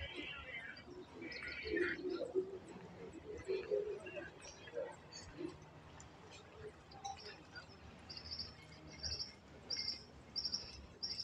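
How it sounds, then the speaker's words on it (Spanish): Many birds chirp and call across a nature park with a lake, a busy mix of near and distant tweets, with insect-like trills and people talking at times. "hay muchísimos pajaritos, muchas aves, mucha variedad de aves"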